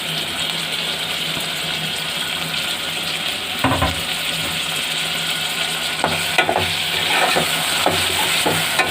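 Vegetables and tomato slices frying in a pan for vegetable pulao, a steady sizzle with stirring clatters and scraping spoon knocks, close and alone without talk.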